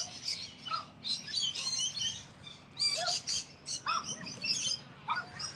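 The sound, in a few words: magpies calling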